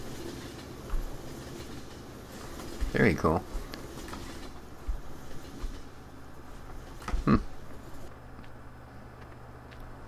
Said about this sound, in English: Oh, cool. Another train going by.